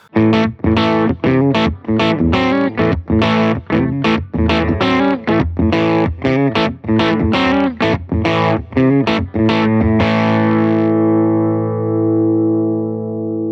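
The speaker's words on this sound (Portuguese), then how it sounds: "um som de um captador como esse aqui, que é um humbucking da ponte" A Reverend electric guitar on its bridge humbucker pickup plays a run of punchy, slightly overdriven chord stabs in quick rhythm, ending in one sustained ringing chord, close and loud with no talk.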